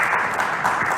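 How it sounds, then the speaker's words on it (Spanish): Church congregation applauding together during a Spanish-language sermon, a dense, steady wash of clapping that holds at full strength through the short stretch with no voices on top. "Denle un fuerte aplauso a nuestro Señor Jesucristo entonces"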